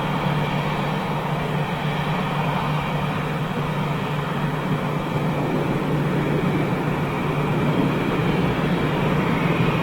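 Boeing 767 jet at Lisbon airport, a steady loud broadband roar of jet engines sustained for the full stretch, with no talk.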